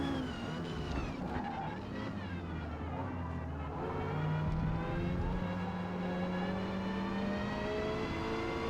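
A Lancia Delta race car engine in Forza Motorsport drones steadily as it races in D class at the Catalunya circuit, its pitch climbing and shifting through gears, continuous and close, with no voices.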